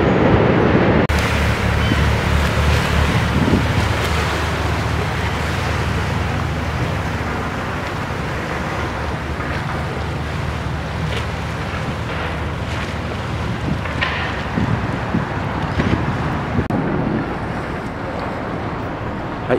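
Ocean waves wash steadily near the shore at Ryogoku, a dense, continuous roar of water with wind buffeting the microphone, loud and close throughout with no voices.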